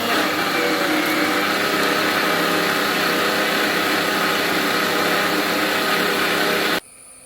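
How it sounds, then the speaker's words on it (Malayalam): Coconut being ground in a mixer grinder for mango pulissery, a loud steady motor whir that holds unbroken for nearly seven seconds, then cuts off abruptly, leaving near silence. "അപ്പോൾ നമ്മൾ തേങ്ങ അരയ്ക്കുകയാണ്. തേങ്ങ നല്ല വെണ്ണ പോലെ അരയണം."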